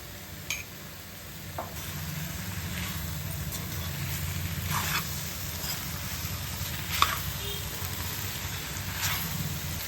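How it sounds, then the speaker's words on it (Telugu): Mutton pieces dropped into a hot pan with fried onions for a home-style curry, sizzling steadily with occasional stirring scrapes and clinks, close and continuous with no speech. "ఇప్పుడు మటన్ వేసుకుంటున్నానండి ఇప్పుడు మటన్ వేసుకున్నానండి"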